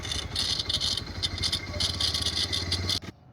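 Engine of a new Bajaj Pulsar 125 motorcycle with an abnormal intermittent noise, a close, steady idle with pulsing ticking and clatter running on for about three seconds before cutting off abruptly.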